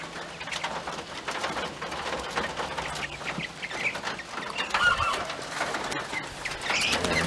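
A small flock of young mountain peafowl in a pen gives soft clucks and chirps, steady and close, over light rain-like background noise.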